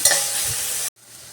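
Chopped onion sizzles in hot oil in a pan for a Mangalore-style cucumber stir-fry, a close, bright frying hiss with a stirring scrape that stops abruptly partway through.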